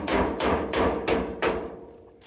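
Five evenly spaced hammer blows, loud and close, each a solid knock that rings briefly before the next strike.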